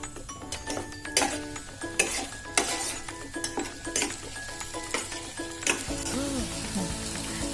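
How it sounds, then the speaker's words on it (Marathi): Onion, garlic and coriander paste fries in oil in a pan for anda bhurji, with a steady sizzle under repeated scraping and clinking strokes of a spoon stirring against the metal. "कांद्याची पेस्ट आपली चांगली भाजून झालेली आहे."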